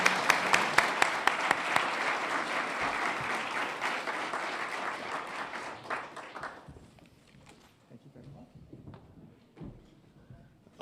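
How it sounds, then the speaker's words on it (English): A conference audience at a Bitcoin policy summit applauds its panelists and hosts, a full burst of clapping that thins out after about six seconds into scattered, fading claps. "Let's give another round of applause for our panelists and our hosts today."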